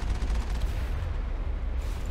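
Heavy gunfire strikes the player in the video game Mass Effect, a dense, rumbling barrage of rapid shots that pulses steadily and loudly for about two seconds with no pause.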